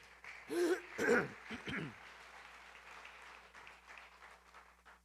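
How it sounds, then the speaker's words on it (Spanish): A church congregation applauds in short bursts, a few loud swells of clapping that quickly fade into low room murmur. "Denle un aplauso al Señor."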